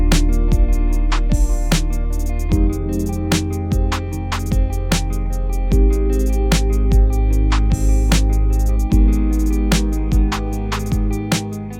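Guitar strummed through a run of minor chord voicings, rhythmic struck chords ringing out one after another, close and steady with no talking over them.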